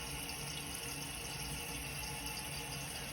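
Water rushes steadily into a newly fitted toilet tank as it refills, a continuous close hiss and gurgle with no pauses.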